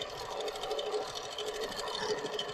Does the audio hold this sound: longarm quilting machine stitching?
yes